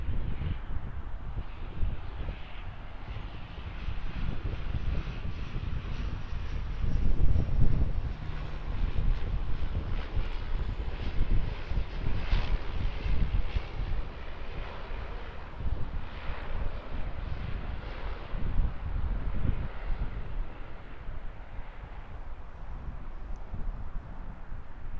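An all-black Bombardier Q300 turboprop, registration ZK-NEM, arrives at Auckland from Gisborne, its engines a steady broad roar that swells and fades a little over time, with wind buffeting the microphone.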